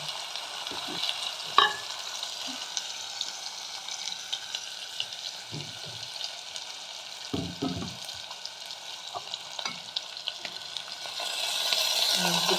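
Potato and vegetables with a pinch of hing fry in oil inside an open pressure cooker, a steady close sizzle broken by occasional clinks and stirring knocks, growing a little louder near the end.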